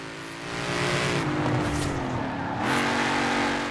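A Forza Horizon 4 car engine with supercharger whine revs up and holds a high, rising whine, then eases and climbs again, loud and close with no talking.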